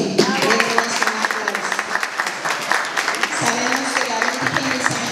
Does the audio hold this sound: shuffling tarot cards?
no